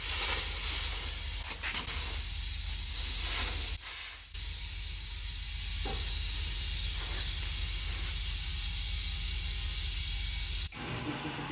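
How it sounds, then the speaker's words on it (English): Compressed air rushes into a semi truck tire being mounted on its rim to seat the bead, a loud, steady hiss that runs almost continuously with brief interruptions and shifts in tone. "now to beat up your tire, which means put air in it and get it back on the bead of the rim"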